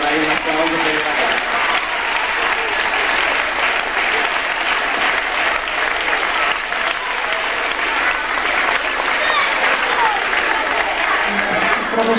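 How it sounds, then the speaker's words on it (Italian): A schoolroom audience at a 1996 Giuliani schools music event applauds the schoolchildren with steady, dense clapping that holds at an even level for the full twelve seconds, with no break. "Per cui vorrei un applauso per i ragazzi."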